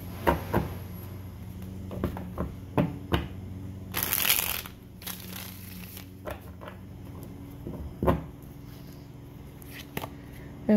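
Tarot cards shuffled by hand, heard as soft riffling and scattered taps and clicks, with one longer burst of shuffling in the middle, close and fairly quiet.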